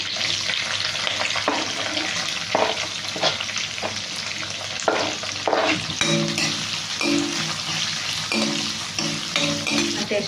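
Curry leaves hit hot oil in a pan with dried red chillies and garlic, giving a steady loud sizzle and crackle throughout with occasional stirring scrapes, close up and with no talking.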